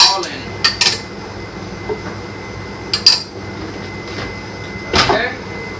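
Chili sauce ingredients dropped into a big kitchen blender: a few sharp clinks and knocks of utensils and containers against the jar, spaced out over a low steady background.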